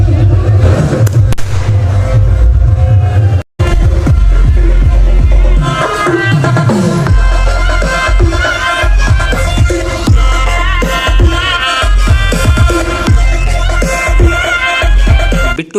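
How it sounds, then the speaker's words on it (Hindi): Firecrackers burst at an Indian wedding, a loud rapid string of cracks and bangs that continues nearly throughout, with a brief gap early on and voices and music mixed in behind. "बम फटने वाला है अभी।"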